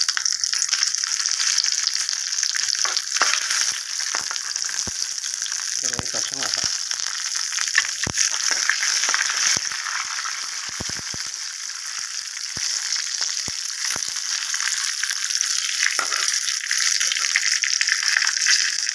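Asafoetida and dried red chillies fry in hot oil for tomato chutney, a loud, steady sizzle interrupted by sharp clicks and clatters of stirring.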